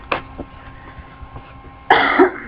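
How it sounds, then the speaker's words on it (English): A person coughs sharply once near the start, then after a quieter stretch lets out a louder, harsher cough with throat clearing, close to the microphone against a faint steady background hum. "Don't mind my coughing."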